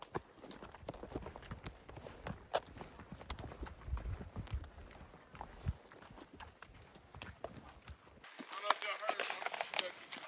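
Horse hooves clip-clop at a steady walking rhythm on a horseback trail ride at the Heart 6 Ranch near Grand Teton, moderately close, with occasional voices and scattered outdoor noise mixed in.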